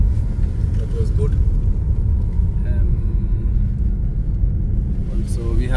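A car drives through the Vosges in France with a continuous low road rumble and engine drone throughout, while a person talks over it.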